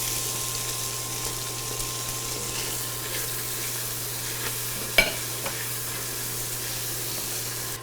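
Onion frying in a pan while cooking Southern green beans with ham and red potatoes: a steady, even sizzle throughout, broken once by a sharp clink of a utensil and a few lighter taps.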